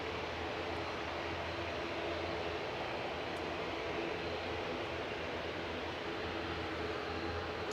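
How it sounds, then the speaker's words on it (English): A Jet2 airliner waiting on the runway at Manchester Airport produces a steady, broad engine roar that holds evenly throughout, heard at a distance with no voices. "We've got Jet 2's Tango Bravo waiting to go on the runway, heading to Rome with flight 987."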